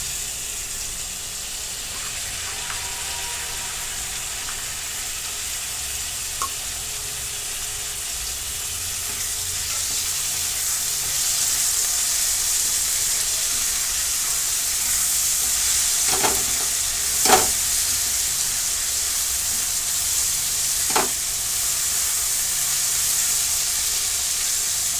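Tomatoes frying in a pan for spicy sukat bhaji, a steady close sizzle and hiss throughout with a few brief clinks of a utensil stirring.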